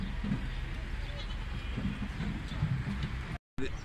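Naimi sheep and four-month-old lambs at a large livestock auction in Buraydah, with soft bleats rising from a busy, murmuring pen under faint background chatter.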